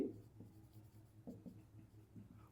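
Pen writing out a math solution on paper for a polynomial exercise, a steady close scratching with short strokes and pauses, quiet and alone without talk.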